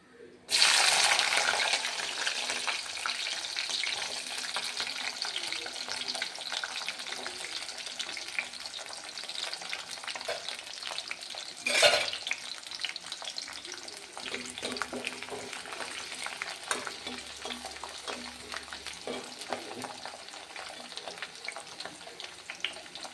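Garlic dropped into hot oil for a lemon pickle after mustard seeds, with a loud sizzle at first that settles into a continuous close frying hiss, broken by occasional stirring scrapes.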